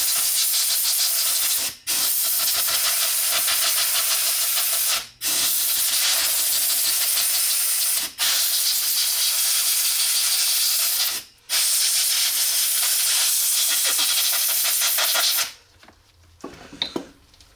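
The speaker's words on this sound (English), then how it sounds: "I'm just going to finish off by using the airline here to blow them through" A compressed air line blows serviced wheel bearings dry in loud, hissing bursts, four long blasts separated by brief pauses, followed by quieter handling sounds.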